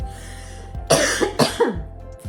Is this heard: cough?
yes